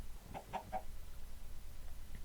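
A few quick, faint clucks from video game chickens in a Minecraft-style world, three short calls close together followed by quiet background hiss.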